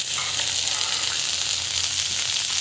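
Dried red chillies fry with onion and tomato in hot oil, giving a loud, continuous close sizzle with a steady crackling hiss and no voices.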